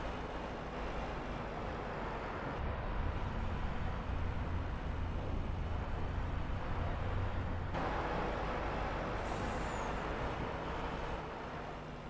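Truck engine in Farming Simulator 25, a steady low drone hauling a trailer along a road, constant and moderately loud with a slight shift in tone midway, no talking.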